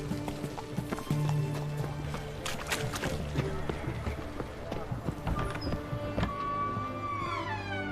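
Hooves of Roach, a horse in The Witcher 3, clip-clop in a steady rhythm across an in-game soundscape, with a whinny and a voice briefly over the footfalls.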